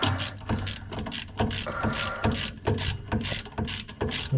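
A ratchet clicks in quick, steady bursts as it tightens bolts beneath a 1939 Chevrolet, the loud, close pawl strokes repeating in an even rhythm with no talking.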